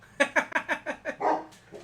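Several dogs bark indoors in a quick series of sharp, close barks that end in a longer yelp-like call, with no talk over them.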